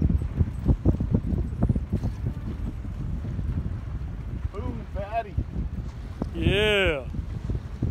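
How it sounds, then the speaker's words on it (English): Outdoor wind buffets the microphone in a low, gusty rumble at a hunting opener, running under frequent casual talk between people nearby. "Wind's blowing now."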